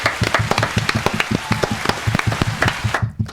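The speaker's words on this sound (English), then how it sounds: "One more applause for Ani." A small group applauding, a steady patter of quick hand claps that carries on for about three seconds, then cuts off abruptly.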